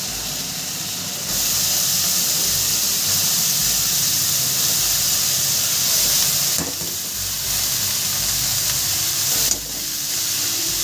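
Chopped red and green amaranth greens hit a hot pan of fried shrimp, setting off a loud, steady sizzle and hiss that runs throughout, with brief dips as the greens are stirred.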